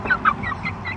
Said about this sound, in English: That's a little rooster.